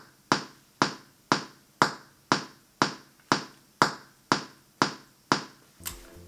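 Twelve crisp, evenly spaced clicks tick out a steady pulse at about two per second, each ringing briefly before the next.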